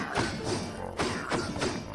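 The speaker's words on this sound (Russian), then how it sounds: "Воу, ты что взрываешь тут все?" Booming explosions go off repeatedly in modded Minecraft, a rapid series of loud, thumping blasts layered over a continuous roar with no pauses between them.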